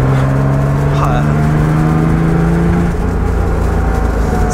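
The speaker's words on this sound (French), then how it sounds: "Alors, on retrouve notre 6 cylindres Porsche." Porsche six-cylinder engine running with a new 123 ignition distributor, a steady loud drone with a falling tone partway through, overlaid by people talking.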